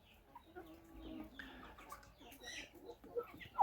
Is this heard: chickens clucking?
yes